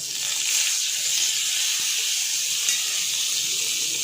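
Cumin seeds and bay leaves fry in oil with a steady, close, bright sizzling hiss that runs unbroken throughout.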